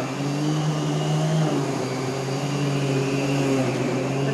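Miele Callisto or Rainbow D4C canister vacuum cleaner running steadily and loudly up close, a continuous motor whine with a slight pitch drop partway through.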